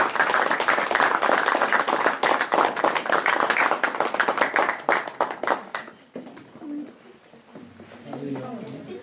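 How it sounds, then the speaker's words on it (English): An audience applauds the players of a Philadelphia All-American ladies team at a draft selection show, with dense clapping for about six seconds before it fades and a voice speaks. "Let's give them all a round of applause."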